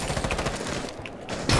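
Rapid gunshots from the video game Rainbow Six Siege ring out in a close, steady burst. A louder shot cracks at the end.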